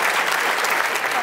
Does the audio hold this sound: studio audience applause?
yes